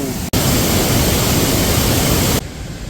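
Nunobiki Falls in Kobe, Japan, gives a steady, loud roar of falling water that fills the clip nearly without break, apart from a tiny dropout near the start and a softer tail at the end.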